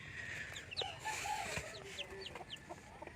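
Hens cluck softly among newly hatched chicks, including Rhode Island Reds, with repeated high chick peeps and short clucks close by over a faint background hum.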